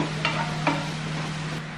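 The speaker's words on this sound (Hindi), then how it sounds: "जब प्याज भुन रही है उसी टाइम पे हम अब जो गार्लिक पेस्ट है वो डाल देंगे" Steady sizzle of onions frying in a pan as garlic paste goes in, with a couple of soft scraping stirs near the start over a constant hiss and low hum.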